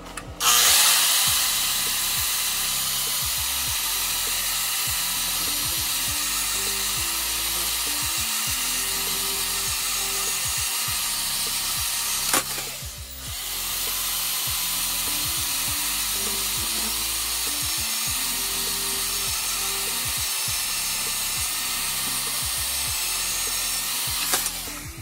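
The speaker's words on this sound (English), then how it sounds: "I'm gonna be grinding these and this exactly the same and trying to match it up with the other spindle" An angle grinder grinds cut Honda Accord spindles flat, holding a loud, steady whine up close for about 25 seconds with one brief dip midway.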